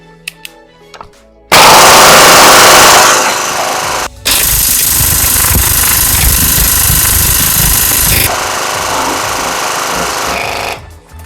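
A Punisher HPA airsoft gun with a Mechlabs engine fires full auto at roughly 25 to 30 rounds per second, loud and close, in two long continuous bursts separated by a brief pause.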